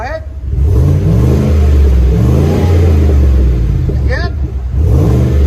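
A car engine fitted with a Borla Atak LS crate muffler revs loud and close, rising and falling in several deep, clean pulls with a steady rumbling exhaust throughout.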